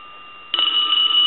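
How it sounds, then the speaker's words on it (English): A payphone's telephone bell starts ringing about halfway through, a loud, steady metallic trill held without a break to the end, close by, with a faint electrical hum underneath before it begins. "go ahead and ring the telephone real quick"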